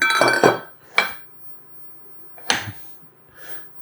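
A spoon clinks against a dish while a tablespoon of butter goes into white all-purpose flour, with a few sharp separate taps and light scrapes close by and near-silent gaps between them.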